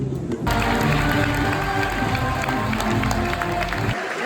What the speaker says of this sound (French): Ils applaudissent pour vous, ouais.